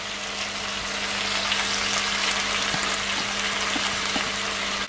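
Small-cut chopped onions frying in a pan for Jamaican brown stewed pork, a steady, even sizzle that holds close and constant throughout with faint clinks now and then.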